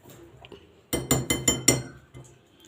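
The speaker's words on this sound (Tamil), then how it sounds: "எல்லாத்தையும் ஒன்றா மிக்ஸ் பண்ணிடலாம்" Snack ingredients are mixed together in a bowl, with five quick, bright clinks in a steady rhythm as a utensil strikes the bowl, heard close and alone.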